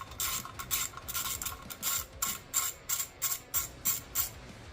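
A thread tap is backed out of a freshly tapped hole in a painted hubcap surface, giving a quiet, rhythmic series of metallic ratcheting clicks in short regular bursts.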